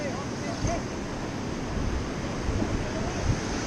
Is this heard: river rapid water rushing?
yes